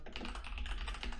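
Rapid keystrokes clatter on a computer keyboard, a quick run of soft, close clicks at an even pace over a faint low hum.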